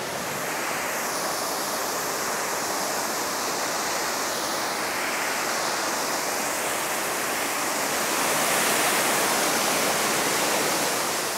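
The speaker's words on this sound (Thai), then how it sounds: "ลมเย็นมากลมจากน้ำตก" A waterfall in Kanchanaburi gives a steady, loud broadband roar of falling water that fills the whole clip evenly, swelling slightly toward the end, with no voices.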